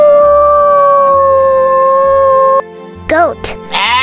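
A wolf lets out a long, loud, drawn-out howl at a steady pitch, followed by a few short, higher yelping cries near the end.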